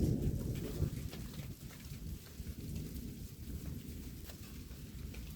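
Heavy rain pours during a thunderstorm in Oklahoma, a dense low rumbling wash with gusty swells, close and steady throughout with no voices.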